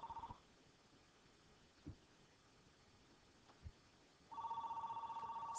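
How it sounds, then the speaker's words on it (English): A telephone rings faintly, with a short burst at the start and another ring starting near the end, over a quiet hiss and no voices. "Excuse me, the phone's ringing"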